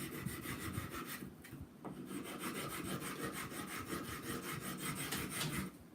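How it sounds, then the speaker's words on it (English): Sandpaper block rubbing along the edges of a leather strop held in a vise, a steady rasping scrape of repeated back-and-forth strokes that runs continuously and close up, with no voices. "I'm going to clean up these edges with some sandpaper. I have a block here, and I'm just going to go around."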